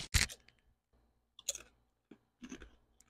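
Crunchy chewing of white cheddar Popcorners popcorn chips, close to the mic, in three separate bursts of crisp bites and munching with short quiet gaps between them.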